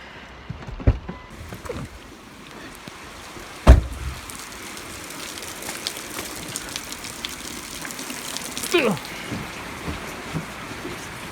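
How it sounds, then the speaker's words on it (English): Heavy rain pours steadily in Guernsey County, Ohio, as an even wash of patter, broken by a few loud nearby thumps and knocks. "It is just pouring."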